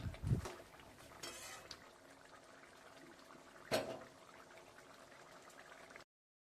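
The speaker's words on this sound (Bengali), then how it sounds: "উনুনে কড়া বসিয়ে দিয়েছি।" A wok is set on a stove at home for cooking chicken kosha, giving a few faint metallic clanks and scrapes, with one sharper knock midway against quiet kitchen background.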